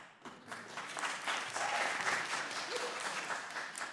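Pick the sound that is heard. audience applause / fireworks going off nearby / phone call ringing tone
audience applause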